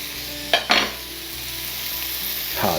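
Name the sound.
butter and garlic sizzling in a pan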